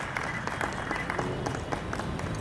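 An audience claps steadily to welcome vocalist Shubha Mudgal at a Sur aur Saaz evening in Jaipur, a dense, even wash of hand claps with no break.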